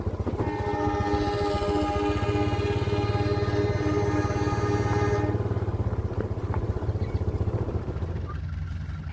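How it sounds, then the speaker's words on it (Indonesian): A train runs past near Tanggul station, heading west toward Probolinggo and Pasuruan. A loud, sustained horn blares for about five seconds over a heavy rail rumble, and the rolling clatter then carries on alone, close by. "dari stasiun Tanggul ada kereta yang mengarah ke barat, ke arah Probolinggo, Pasuruan, dan seterusnya."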